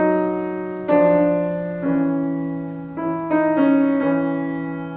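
Slow piano notes move through a scale that includes a chromatic step, each tone struck and held so it overlaps the next, sounding close and clear with no speech.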